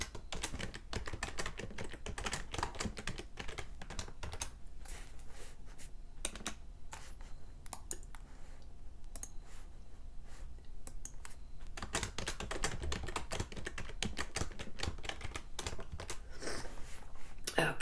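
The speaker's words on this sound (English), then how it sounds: "I cannot type and talk at the same time" Fingers typing on a computer keyboard, a dense run of close clicking keystrokes with a brief quieter pause midway, continuing steadily without speech.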